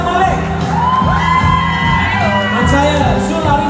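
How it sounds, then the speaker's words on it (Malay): A wedding-reception crowd shouts, whoops and cheers together, loud and close, with voices rising and falling over each other. No distinct clapping stands out. "Berikan tepukan untuk Adam Malik."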